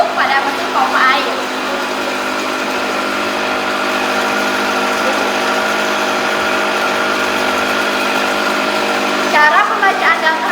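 Water pump machine in a hydraulics lab for a broad-crested weir flow experiment, running with a loud steady motor hum and whine throughout, with brief voices near the start and end.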